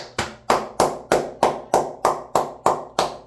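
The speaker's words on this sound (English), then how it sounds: "You, my friend, get a round of applause." Ten evenly spaced single hand claps, loud and close, each a sharp crack with a short decaying tail, in a slow steady rhythm with no voices.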